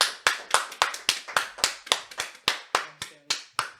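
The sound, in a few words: round of applause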